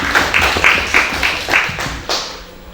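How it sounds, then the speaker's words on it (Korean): Audience applause at a Korean film festival class session, a burst of rhythmic clapping with a few louder claps standing out, fading toward the end. "네, 박수 부탁드릴게요."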